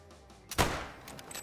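A single loud rifle shot from a 300 Blackout in the Call of the Wild hunting video game, fired at a whitetail buck, cracks sharply and then trails into a brief decaying echo with no voices.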